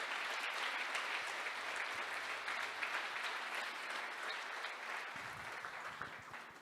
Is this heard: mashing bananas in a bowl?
no